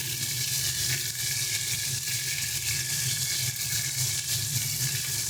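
Green chilli paste frying in a pan for a dried fish and flat bean dish, giving a dense, steady sizzle and hiss, close and continuous with no talk.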